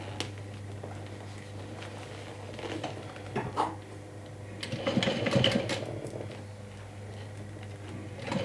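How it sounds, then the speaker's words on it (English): A sewing machine stitches a fold on a fabric swim tote, giving a steady close mechanical hum with a busier, louder stretch of whirring stitching in the middle and a few light clunks. "I'm gonna sew with 1/8 of an inch"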